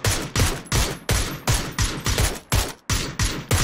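Rapid gunfire from the battle royale video game PUBG rings out in about ten loud, evenly spaced bursts over a few seconds, each sharp crack trailing into a short decay, with no voices.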